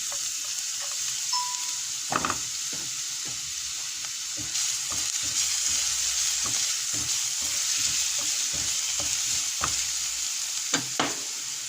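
Garlic sizzles in a small amount of olive oil in a pan, a soft continuous frying hiss broken by repeated clinks and scrapes of a utensil stirring, with no one talking.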